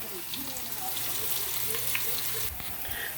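Onions stir-frying in a pan for jollof rice give a soft, steady sizzle with faint crackles and a brief clatter near the end, fairly quiet and close.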